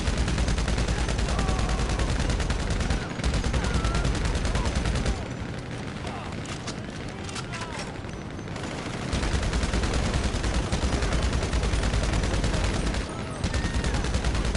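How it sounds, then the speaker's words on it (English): Sustained suppressive gunfire in GTA Online, a dense fusillade of rapid shots that pauses briefly midway and at the end, then resumes, loud and close. "I'm laying down suppressive fire."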